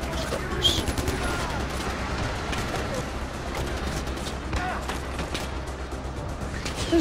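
Sustained enemy gunfire in Far Cry 4, dense rattling volleys from shooters high up a mountain, steady and moderately loud throughout with scattered louder cracks.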